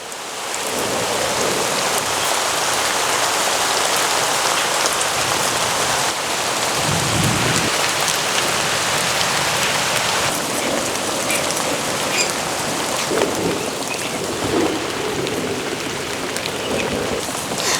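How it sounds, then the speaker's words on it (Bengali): Steady rain falls continuously, a dense even hiss of drops on surfaces, close and fairly loud throughout with no voices. "বৃষ্টি শুরু হয়ে গেছে, বেশ কিছুদিন পর বৃষ্টি হচ্ছে"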